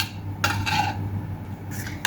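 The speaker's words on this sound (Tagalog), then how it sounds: "Ngayon, haluin natin ng mabuti para lahat ay magkahalo-halo." A spoon stirs malfouf filling with onions in a pot, giving a few brief scraping and clinking strokes against the metal. The sounds come close and fairly clear, over a low steady background hum.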